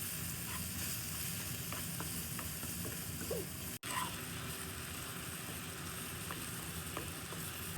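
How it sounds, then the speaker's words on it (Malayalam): Strawberries cooking down with sugar in a pan, a steady bubbling sizzle with occasional light stirring clicks, close and even throughout, brief pause midway, no talking. "സ്ട്രോബെറി നമുക്കൊന്ന് മെൽറ്റ് ചെയ്തെടുക്കാം പഞ്ചസാരയൊക്കെ ഇട്ടിട്ട്"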